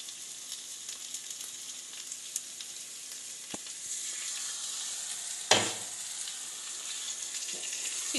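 Chicken curry sizzles steadily in a pan as yogurt goes in, with a burst of hissing and a few stirring knocks against the pan, and nobody speaking.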